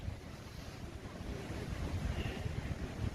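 Rough sea waves surging at dusk, a continuous roaring wash of surf mixed with heavy wind buffeting the microphone, building slightly louder toward the end.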